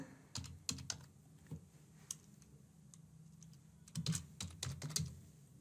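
Card details are typed into an online payment form on a computer keyboard: quiet, close keystrokes fall in short irregular bursts with pauses between them.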